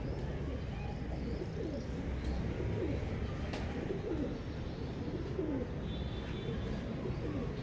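Royal Teddy breeder pigeons, four pairs, coo softly in a loft, low murmuring calls repeating over a steady background hum and faint rustling.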